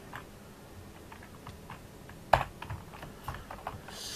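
A computer keyboard is typed on during a prison-themed game session: a sparse run of soft key taps, then a sharper burst of close clicks and a few more scattered keystrokes, with no one talking.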